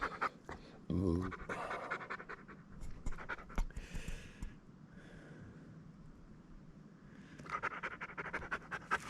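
A dog named Klaus pants in quick, soft breaths close by, with a louder snort or rustle early on and a voice talking over parts of it.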